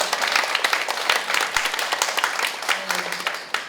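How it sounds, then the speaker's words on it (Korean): Audience applause fills a Korean conference hall at a forum on domestic violence against marriage-migrant women: dense, sustained clapping from a seated crowd, steady and lively throughout, with a brief voice murmuring beneath. "큰 박수 부탁드리겠습니다."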